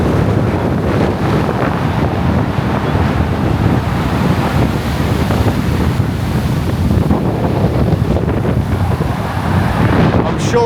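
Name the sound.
strong wind and ocean waves in a storm on Tenerife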